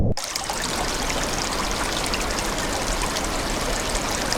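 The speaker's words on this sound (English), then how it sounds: "let's take you to waterfall because it's different than it was in the ad." A relaxation sound app plays a steady, loud waterfall: dense continuous rushing and splashing water, unbroken from start to end after a brief quiet moment, with no voices.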